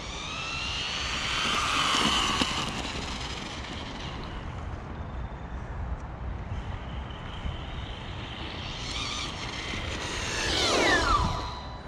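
A small MJX Hyper Go RC car at full throttle, its electric motor whining loud and high as it passes near, fading away and then sweeping back close near the end.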